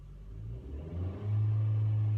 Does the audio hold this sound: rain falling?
no